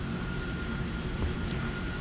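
Gloster Meteor jet taking off in War Thunder, a steady broadband engine roar with a low rumble holding loud and even throughout, joined by a couple of brief high whining tones near the end.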